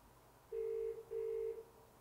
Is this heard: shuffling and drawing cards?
no